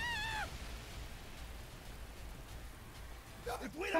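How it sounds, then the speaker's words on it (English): A domestic cat meows in a short rising and falling call at the very start, then quieter sounds return near the end over steady background noise from a game. "That's my cat."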